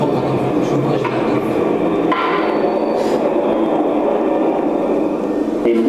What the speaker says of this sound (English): Now we'll cold roll a similar piece of the same aluminium.